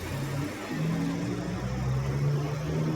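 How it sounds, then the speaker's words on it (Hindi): A car on a deserted road at night gives a low, steady engine rumble, close and continuous, with a faint rising tone as it moves off. "गुस्से में सुमित्रा ने अपनी बचपन की दोस्त को आधी रात में एक सुनसान सड़क के बीचों बीच छोड़ दिया और वहां से गाड़ी लेकर चली गई"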